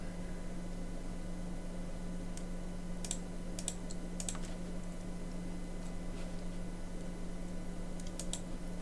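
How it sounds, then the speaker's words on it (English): Scattered clicks of computer keys, a few isolated taps and short clusters, faint over a steady electrical hum and background hiss. "I keep press the shift key on the keyboard"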